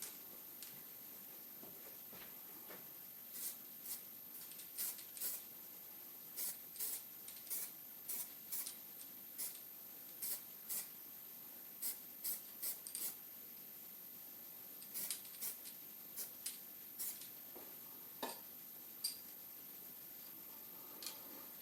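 Black paint is sprayed onto a new rear toe adjustment rod for a Volvo 460 T5 AWD in short, faint hissing bursts, repeated irregularly with quiet gaps between them.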